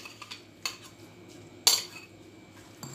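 Utensils mix and press a beetroot salad in a bowl, with soft scraping and a few sharp metallic clinks, one louder knock near the middle, and no talk.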